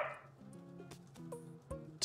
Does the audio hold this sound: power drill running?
no